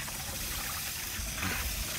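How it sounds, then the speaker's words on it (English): A steady water stream washes soil off the roots of new strawberry plants, a continuous, noisy hiss and trickle heard close up without pause. "I'm kind of using the power of the water stream here to knock off"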